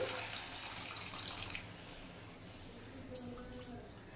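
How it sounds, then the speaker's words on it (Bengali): Water is poured from a tap-like stream into a pan of yogurt fish curry, giving a steady soft splashing hiss with a few faint drips toward the end, fairly quiet and close. "আর একটু জল দিয়ে দিচ্ছি।"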